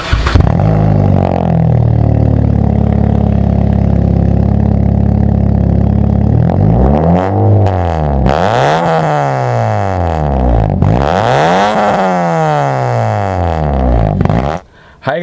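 A Honda Civic fitted with a full stainless steel B.A.R exhaust system and a new air intake idles loudly and steadily, then revs hard several times in rising-and-falling sweeps before cutting off abruptly.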